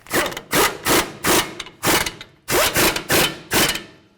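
Rapid bursts of metallic ratcheting as nuts are run down on a 2007-2014 Ford Edge passenger-side loaded shock assembly, about eight close, loud pulses in quick rhythm.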